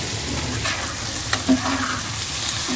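Karfu fish belly fat frying in a pan, a steady close sizzle with a few soft scrapes and taps as it is gently stirred.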